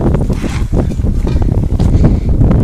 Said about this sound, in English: It's windy. I think a storm's rolling in.